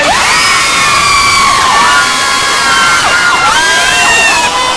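A crowd screams and cheers continuously at a concert show, high-pitched shrieks rising and falling in waves, loud and close throughout.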